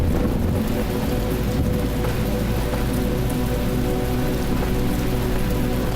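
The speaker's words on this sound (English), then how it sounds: "Oh, darn it, it's raining again." Steady rain falls across a surface in The Talos Principle video game, a dense, continuous hiss of drops with no breaks, loud and close throughout and no voices over it.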